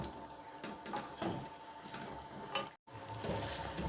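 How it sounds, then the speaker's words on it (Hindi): Chicken frying in oil in a karahi for a Peshawari charsi chicken karahi, giving a steady, close sizzle with scattered crackles and a brief stir or clatter partway through. "अब हम इसको ऑयल में थोड़ा सा फ्राई करेंगे।"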